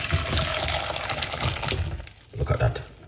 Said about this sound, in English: pour it off